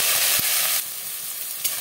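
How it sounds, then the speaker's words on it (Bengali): Prawns hit hot oil in a pan with a loud, dense, continuous sizzle that eases slightly partway through, with a couple of brief knocks from the pan. "তেলটা গরম হয়ে গেছে, দিয়ে দিলাম চিংড়ি"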